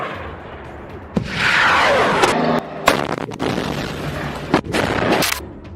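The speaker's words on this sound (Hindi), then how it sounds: "ये मिसाइलें एक के बाद एक फायर होने लगती हैं" A salvo of Rajoom missiles fired by remote control launches one after another in a Gaza combat zone, loud roaring blasts with sharp cracks in rapid succession, booming and echoing at close-to-mid distance.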